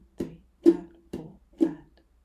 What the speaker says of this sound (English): I would actually bring my hand gently onto the neck of the ukulele and then use flat fingers to strum the offbeat